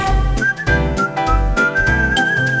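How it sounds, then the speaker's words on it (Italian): A bright melodic whistle carries the tune of a cheerful Italian cartoon theme song over bouncy rhythmic accompaniment, loud and upfront. "Impara a fischiettar, vedrai che tutto il mondo più giocondo sembrerà"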